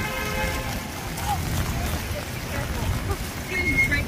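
Rain patters steadily at night on an umbrella close overhead, a dense crackling hiss with faint background noise.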